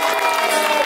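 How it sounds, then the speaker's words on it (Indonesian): Short burst of loud, close applause from a school audience gathered for a back-to-school event, busy clapping mixed with crowd noise. "Tepuk tangan untuk kita semua dulu."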